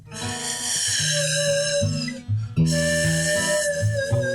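A person whistles a long, wavering tune imitating wind through trees, sustained tones sliding up and down with a brief breath-break midway.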